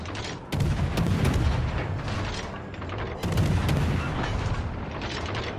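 Naval guns fire in World of Warships Legends, with two heavy booming salvos about three seconds apart, each followed by a long rumbling decay under continuous battle noise.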